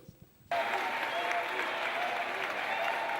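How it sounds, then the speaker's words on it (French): Civil society organisation members give a newly elected president a thunderous welcome, loud dense applause bursting in suddenly after a moment of quiet and holding steady to the end. "C'est par un tonnerre d'applaudissements que les organisations de la société civile ont accueilli le président fraîchement élu."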